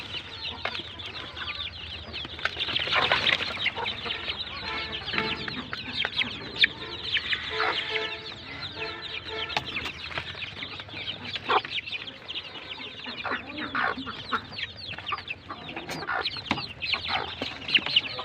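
A mother hen clucks among her many chicks, with a continuous busy chorus of close, high peeping and clucking throughout.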